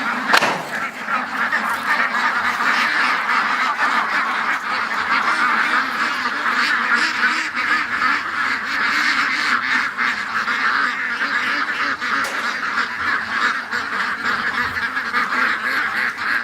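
A flock of domestic ducks quacks and honks continuously and loudly up close in a farmyard pen, a dense overlapping chorus of calls with no pause.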